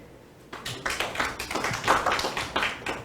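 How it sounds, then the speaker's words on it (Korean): Audience at an academic symposium on resource recycling in Jeju giving applause, starting suddenly after a quiet moment and carrying on as a moderate crowd of clapping hands. "큰 박수 부탁드립니다."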